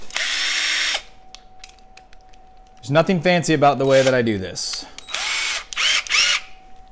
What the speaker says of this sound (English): And I just put it into my hand drill.